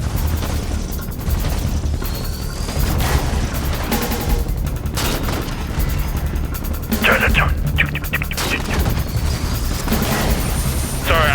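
Gunfire and explosions in Halo during a Covenant attack, with bursts of shots and booms layered over continuous battle noise while voices talk over the fighting.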